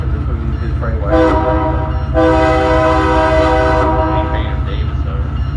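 A locomotive horn sounding a move call in the Run 8 train simulator game: a brief blast, then a long loud sustained one over a constant low engine rumble.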